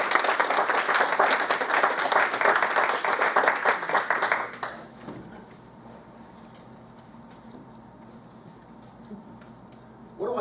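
A conference audience applauds to welcome a business speaker, a dense burst of clapping that fills the first few seconds, then fades abruptly into quiet room tone.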